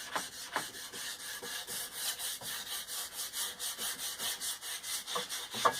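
Sandpaper rubbing along a charred, scorched wooden axe handle in steady, even back-and-forth strokes, a close scratchy rasp repeating rhythmically with no talk.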